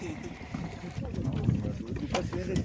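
A crowded boat comes in to the bank of the Ravi river, its engine rumbling low and steady with wind buffeting the microphone and people talking in the background.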